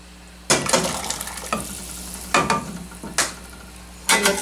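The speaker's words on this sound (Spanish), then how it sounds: "Aquí ya le ponemos su chilito." Chipotle chile sauce for a beef caldo tlalpeño hits a hot pot with loud sizzling bursts, each pour or stir flaring sharply then settling into a softer fry, repeated four times close up.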